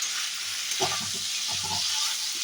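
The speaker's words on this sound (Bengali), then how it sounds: "ফুলকপি আর আলু দুটোই আমি ভালো করে ভেজে নেবো" Cauliflower and potatoes frying in oil in a pan, a close continuous sizzle with a couple of scraping stirs of the spatula, no talking.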